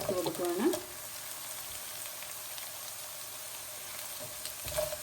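Small diced carrot cubes fry in a pan, giving a steady crackling sizzle like light rain, with a brief voice at the start and near the end.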